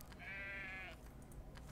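A sheep bleats in the farming game Lords and Villeins, one drawn-out harmonic call lasting under a second over a steady low background rumble.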